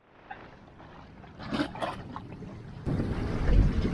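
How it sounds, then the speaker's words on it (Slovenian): Small boat motoring away across a clear bay off Malta, engine and water noise rising steadily with gusts of wind buffeting the microphone, no speech. "Tako, najina ladjica je zdaj odpeljala."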